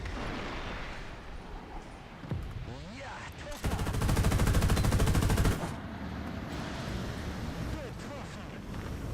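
Rapid-fire machine gun in War Thunder, with a 25 mm cannon mentioned, unleashing a dense, loud burst of about two seconds amid game noise and scattered shots, with a voice talking at times.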